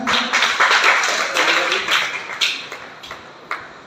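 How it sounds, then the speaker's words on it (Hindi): Applause from the audience at the closing performance of a folk play at a theatre workshop, loud and dense at first, then thinning to scattered claps that fade away. "जोरदार तालियां।"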